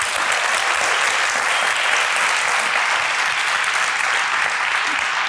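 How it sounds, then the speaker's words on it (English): A crowd at a science slam event applauds steadily, dense and sustained clapping filling the room for several seconds with no break. "one big round of applause for Michaela"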